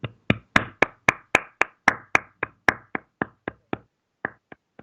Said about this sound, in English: we're just gonna keep doing a Jason Garrett clap for him.